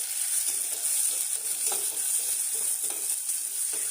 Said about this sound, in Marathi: कांद्याचे काप कुकरमध्ये टाकायचे आहे आणि परतून घ्यायचे आहे